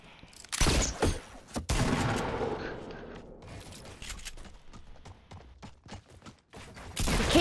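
Rapid bursts of gunfire from a custom game mode in the video game Fortnite, loud, dense volleys separated by short gaps, with a final burst at the end.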